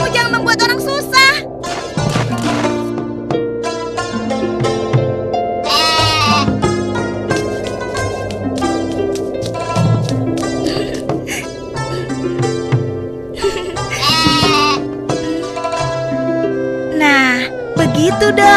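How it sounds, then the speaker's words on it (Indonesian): Goats bleating repeatedly at close range, a busy overlapping chorus of high wavering bleats over a steady background, with music-like tonal layers running underneath throughout. "Itu namanya kambing pintar."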